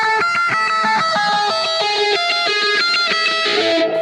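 Electric guitar running through a whammy pedal set to a high octave, plus delays and a phaser, gives a synthy sound, with a steady stream of fast picked notes, loud and close, no voices.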